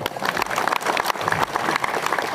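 Audience at a Dharmashanti gathering in Gandusari, Blitar, bursts into lively, dense clapping with uneven peaks, continuous throughout.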